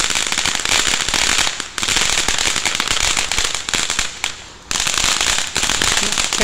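Finale of a Phantom Fireworks Vibrant Voltage Fountain firework, a dense, loud, continuous crackling and sizzling that runs for several seconds with a couple of brief dips before flaring up again.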